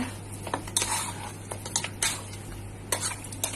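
A spoon scrapes and clinks against a pot while stirring pork caldereta with a splash of soy sauce, light sizzling underneath and a handful of sharp metallic taps scattered irregularly, close and fairly quiet.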